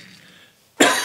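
A single sharp cough bursts out near the microphone after a quiet stretch, loud and brief, while a collector unboxes toy Hot Wheels cars.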